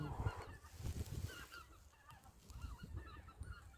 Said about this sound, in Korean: 줄지어 가는 기러기 때야